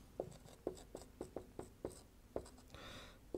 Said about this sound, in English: I'll write on the next line.